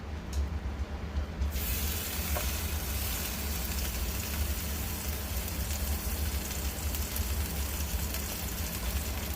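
Teriyaki salmon fries in oil in a pan, a steady, dense sizzle that holds loud and even throughout with no talking.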